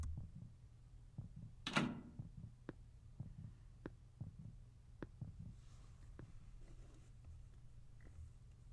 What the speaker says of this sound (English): I get scared with the heartbeat sound effect